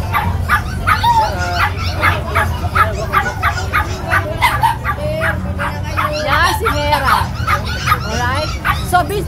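A large Great Dane dog barks in rapid repeated woofs with some yips and whimpers, loud and close, while people talk over the barking.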